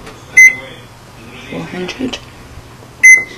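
An oven control panel beeps while preheat is set to 400 degrees: two sharp electronic beeps about two and a half seconds apart, with a person speaking briefly between them.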